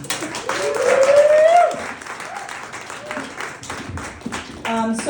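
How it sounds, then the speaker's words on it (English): An audience applauds at a benefit concert event in New York City, clapping rising loudly at first and then thinning to scattered claps, with voices and some tonal sounds mixed in underneath. "let's give a round of applause for the RAPP program"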